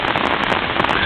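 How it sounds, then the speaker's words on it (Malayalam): Dense, loud rain pours steadily on a hilltop, a continuous close hiss of drops with no pauses. "മഴ പെട്ടെന്ന് ഇപ്പോ"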